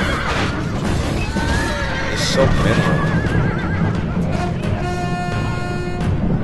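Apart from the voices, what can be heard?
horses neighing in a video game battle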